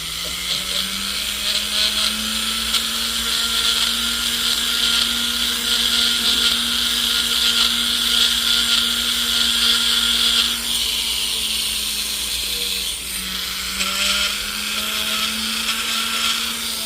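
A rotary tool with a silicone polishing wheel smoothing a finish gives a steady high whine that holds its pitch with slight dips, close and continuous, with no talk.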